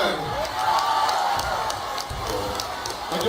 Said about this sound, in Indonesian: Limbat, tepuk tangan.